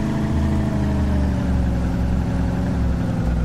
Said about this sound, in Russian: О, какая машина, она просто тупо прет в гору